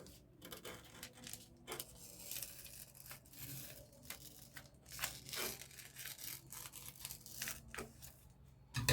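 Scissors cut a round circle out of fabric for a milkmaid dress, giving close, steady snipping and crisp rustling of cloth that repeat throughout with no voices.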